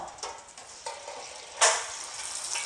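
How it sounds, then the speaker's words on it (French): Shrimp spring rolls crackle and bubble in hot oil, a steady deep-frying hiss with a louder surge partway through, close by and with no talking. "Nous allons frire les nems dans une friture bien chaude"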